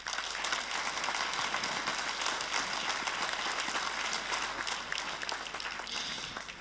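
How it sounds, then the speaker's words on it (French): Sustained crowd applause at a New Year's civic ceremony in Habsheim, France, a continuous patter of many hands clapping at a steady level that tapers slightly at the end. "Vous pouvez l'applaudir."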